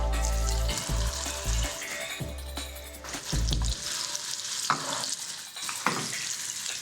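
Scallops sizzle in a hot, smoking pan, a steady loud frying hiss with bursts of crackle and spatter, likely as the pan comes up to heat and the scallops are stirred.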